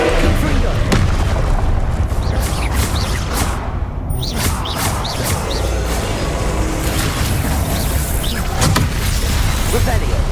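Hogwarts Legacy fire spell combat, with dense booming blasts and whooshing magic swishes repeating over a loud continuous battle bed, close and unbroken throughout.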